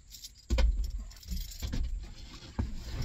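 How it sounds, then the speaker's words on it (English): A ring of keys jangles and clinks close by in a few short bursts, with faint rustling between, alone and without talk. "And get Clifford's keys, because he won't run without his keys"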